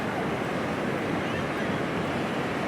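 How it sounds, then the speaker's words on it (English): Ocean surf washing onto a beach makes a steady, close, broad rushing wash mixed with wind buffeting, with no distinct single crashes. "it's just very peaceful to walk on the beach, listen to the sound of the water"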